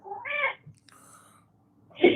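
A cat meows twice, a clear close meow at the start and another sharp cry at the end, with a quiet gap between.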